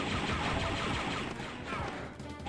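Concussion rifle fire in Star Wars: Dark Forces comes as a dense, loud burst of blasting noise, sustained and rough with a few heavier thumps, heard alone.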